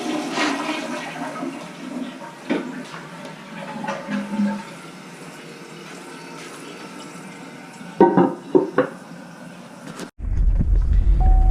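Close toilet flush and refill through a new fill valve: a long gurgling, hissing rush of water with a few louder surges, then an abrupt change to a deeper, steady filling roar near the end.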